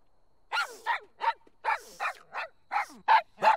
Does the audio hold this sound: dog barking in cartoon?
yes